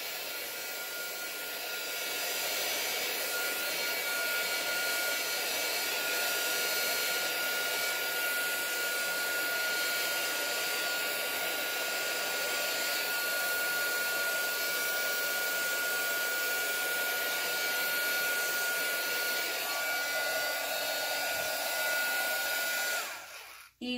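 Hair dryer blowing steadily for about 23 seconds, drying alcohol ink on resin; a loud, continuous whooshing roar, close by, with a slight change in tone near the end before it cuts off abruptly.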